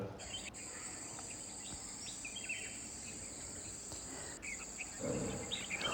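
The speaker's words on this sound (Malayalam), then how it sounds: "ഒരുപാട് പക്ഷികൾ ഉള്ള ഒരു സ്ഥലമാണ്" Steady insect trilling from crickets fills the background, with a continuous high whine and scattered faint bird calls at an outdoor dawn setting.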